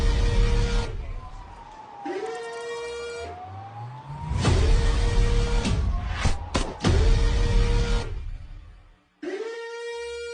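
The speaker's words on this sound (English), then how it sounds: "I love the super scary and dystopian siren." Wailing police car siren, loud and close, sweeping up and down in repeated cycles with brief breaks, over a car engine rumble.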